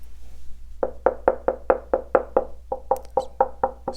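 A home theater speaker cabinet knocked with the knuckles, giving a hollow thud about a dozen times in a steady, even rhythm, close up and alone.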